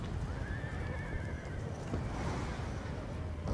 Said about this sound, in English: Aw, man, a horse.